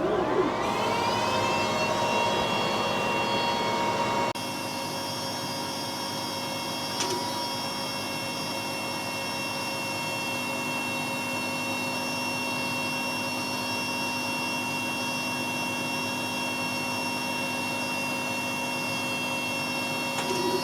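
A WeCreat Vision laser cutter cutting out a shop sign: a steady whirring machine hum with an exhaust fan drone, spinning up at first and then holding a continuous tone, with a faint tick or two and no talking.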